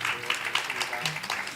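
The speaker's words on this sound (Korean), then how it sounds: "박수 부탁드리겠습니다" An audience at a talk concert on media education claps for an introduced teacher, a moderate, fairly even patter of many hands, with a voice faintly present.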